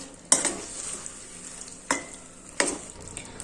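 A spatula stirs Kashmiri red chilli masala in a pan, three distinct scraping clatters against the metal over a low, faint sizzle, close up with no voices.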